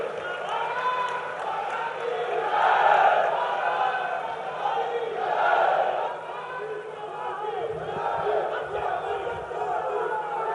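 Large crowd at an outdoor political rally on a fairground in Gwalior, a sustained roar of cheering and shouting with applause, loud and continuous, swelling and easing in waves.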